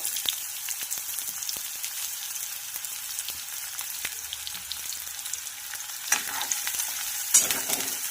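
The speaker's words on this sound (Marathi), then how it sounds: "आणि हे छान फ्राय करून घ्यायचं आहे थोडं हलकस गुलाबी होईपर्यंत" Finely chopped onion fries in a pan with cumin and garlic, making a soft continuous sizzle broken by sharp spoon taps and scrapes, louder stirring near the end; no voices.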